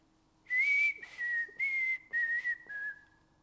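A person whistles five short, sustained notes in a falling-and-rising tune with brief gaps between them, close and fairly quiet, alone with no talk.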